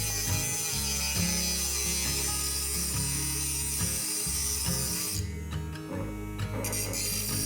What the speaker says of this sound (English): I just kind of gave up on the Dremel and just decided to use the hacksaw